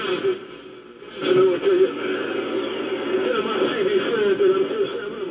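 Radio signal from the citizens band heard on a Hallicrafters S-76 shortwave receiver: a steady hiss with a warbling, voice-like tone held throughout, rising slightly louder after the first second.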